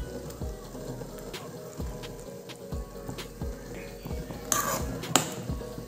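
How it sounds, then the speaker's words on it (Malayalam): Mustard seeds dropped into hot coconut oil while making coconut chutney, giving soft scattered crackles and pops over a low sizzle, with a brief louder burst of spluttering near the end. "നമ്മൾ വെളിച്ചെണ്ണ നന്നായിട്ട് ചൂടായിട്ടുണ്ട് കേട്ടോ ഇതിലേക്ക് ആവശ്യത്തിന് കടുക് ആഡ് ചെയ്ത് കൊടുക്കാം"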